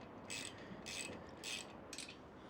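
A ratchet clicks while tightening the rack bolts on an ENGWE L W Peak 52V 20-inch folding electric bike, with four short bursts of rapid clicking in a steady back-and-forth rhythm, heard close and faint against a quiet background.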